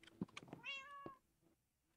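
A cat meows once in a drawn-out, rising and falling call, following a few short thumps and rustles close by, in a quiet indoor room.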